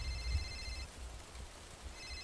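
Video game telephone ringing, a faint electronic bell trill heard in two short bursts, at the start and again near the end, over low background rumble.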